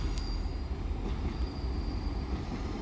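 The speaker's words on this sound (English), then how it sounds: "here's one of LNER's 801's 110 units, and this is a service to Leeds." An LNER Class 801 train passing through Doncaster station, a steady low rumble throughout with a faint high whine, continuous and fairly distant, with no voices.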